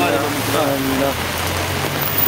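Heavy storm rain in Baguio pours down in a dense, steady hiss close by, loud and unbroken throughout, with a voice speaking briefly over the downpour near the start.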